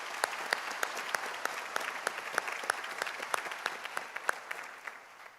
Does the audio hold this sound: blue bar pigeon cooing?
no